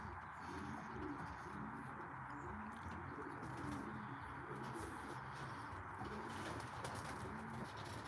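Pigeons coo in low, rolling repeated calls at close range over a steady background hum, with occasional faint chirps mixed in.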